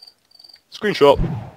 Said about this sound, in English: But we can hear crickets behind you, clearly.